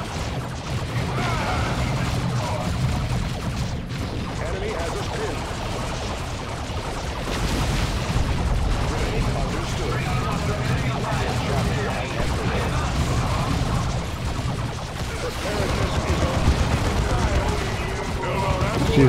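Artillery barrages and gunfire in the Dawn of War 2 strategy game, a dense, continuous roar of blasts, impacts and crashes throughout, with game voices speaking over the din.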